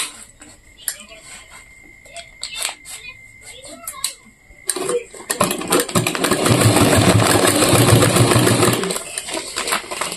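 A sewing machine stitching a lightly folded hem on a small cloth market bag starts up after a few quiet clicks and handling taps, then runs in a loud, continuous close-up whir for several seconds before slowing.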